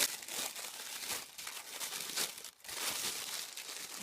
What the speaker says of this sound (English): So let's see what happens when we open up the tissue paper.